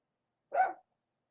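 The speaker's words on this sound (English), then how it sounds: "Barking at nothing. But that's our dog." Sarabi, a pet dog, gives a single short bark, fairly faint and set against silence.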